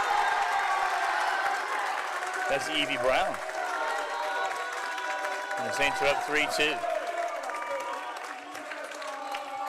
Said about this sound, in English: The crowd is really active tonight.